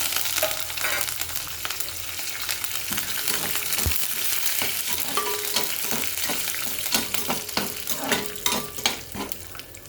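Mustard seeds, dried red chilies and curry leaves sizzle and crackle in hot oil for a tempering, a steady close frying hiss broken by sharp pops and stirring scrapes.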